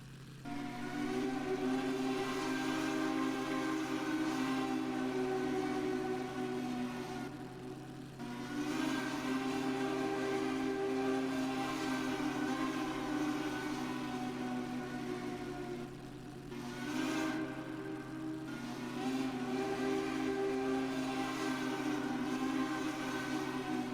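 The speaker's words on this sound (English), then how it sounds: "right now I will be doing a Southern Long Bell 3-chime" A Southern Long Bell 3-chime train whistle in a video game sounds in long sustained chord blasts, three extended tones separated by brief breaks, steady and loud, with no talking.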